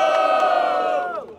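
A battle rap audience at Batalha do Coliseu yells and cheers for TKO, a loud sustained crowd shout with a strong tonal roar that holds steady and then fades out within about a second and a half.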